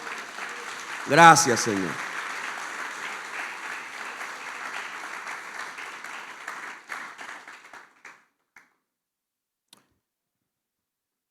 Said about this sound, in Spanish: ¿Alguien le da un aplauso al Señor por eso, mis hermanos?